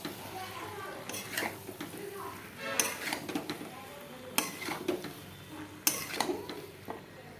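Jackfruit and potato curry being stirred in a pan for a wedding-style jackfruit and prawn dish, with repeated metal scrapes and clinks of a spoon against the pan, fairly quiet, with voices in between.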